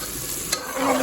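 Cooking oil sizzles in a pan before garden vegetables go in, a constant hiss with a brief scrape partway through.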